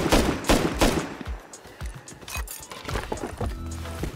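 Gunfire in the Rust video game: a rapid burst of several close, loud shots, a short pause, then a few more sharp shots.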